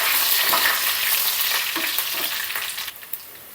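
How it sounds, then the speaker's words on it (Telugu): Fenugreek seeds and dry red chillies fry in hot oil for a tempering, giving a dense, close sizzle with fine crackles that gradually thins and quiets toward the end. "ఐదారు మెంతులు వేసుకున్నానండి తర్వాత ఎండుమిర్చి వేసుకొని ఒకసారి కలుపుకున్నాం"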